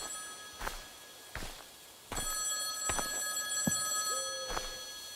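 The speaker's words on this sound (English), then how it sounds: "I hear a phone." A telephone bell rings in a video game in Finnish mythology, with several separate rings spaced across the clip and dull footsteps and thuds between them, fairly quiet and with no talk.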